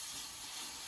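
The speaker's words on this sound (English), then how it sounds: "I can hear that sizzling in the sink." A steady, close hiss and sizzle from a hot pan in a kitchen sink fills the moment, broadband and constant without pauses.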